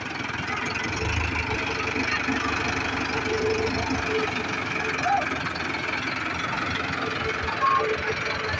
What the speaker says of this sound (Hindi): अरे दल दल है मोहम्मद ले जा ट्रैक्टर असम है